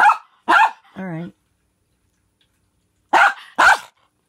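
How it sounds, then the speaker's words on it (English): Miniature Pinscher barking indoors: two sharp barks, a brief whining yip, a long pause, then two more loud barks, close and clear. "Why are you barking?"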